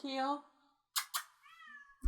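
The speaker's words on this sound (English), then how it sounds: "what are you meowing about, Kyo?" A house cat meows close by, one drawn-out call followed by a few short clicks and a rising second meow, with a person's voice also present.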